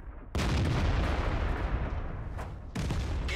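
Artillery fire from World of Tanks comes as a heavy, sustained booming roar that starts abruptly, rumbles on for a couple of seconds, then is renewed by another loud blast near the end.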